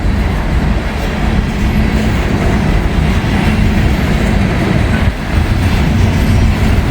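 Coal train rolling past on the rails, a loud, close, continuous roar of wheels and freight cars with steady rumble and faint rhythmic clatter, no pause throughout.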